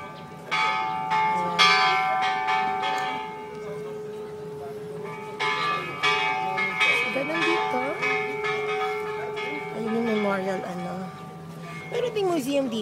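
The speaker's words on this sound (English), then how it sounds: "Ayan yung bell. Ang naririnig ninyo." Bell ringing at Hiroshima Peace Memorial Park, resonant tolling with long ringing overtones that keeps on beneath people talking nearby outdoors.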